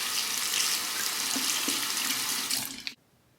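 A tap runs in a steady strong hiss while a razor is rinsed, ending abruptly as the water shuts off.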